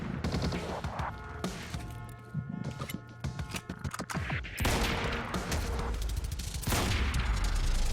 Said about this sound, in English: I'm getting reports of gunfire in the underground parking.